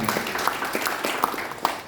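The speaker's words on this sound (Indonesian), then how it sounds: "Tepuk tangan buat Tuhan" Church congregation applauding, a brief burst of steady clapping from many hands indoors, moderately loud and even throughout.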